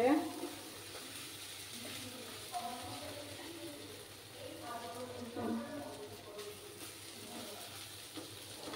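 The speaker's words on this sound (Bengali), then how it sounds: "দিয়ে ভালো করে কষিয়ে নেব।" Spice masala with black pepper powder sautéing over low heat, with a soft steady sizzle and occasional stirring scrapes, fairly quiet throughout.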